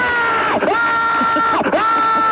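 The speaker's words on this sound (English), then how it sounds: "Good primal scream." A radio caller on a WNBC phone line lets out a primal scream: one loud, sustained, strained cry with two sharp breaks in pitch, carried over slightly thin telephone-quality sound.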